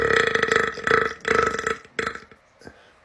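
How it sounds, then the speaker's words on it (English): A man belches loudly on command, producing a series of big, drawn-out burps with short pauses between them, close up and alone without talk. "I learned how to do bigger burps on command."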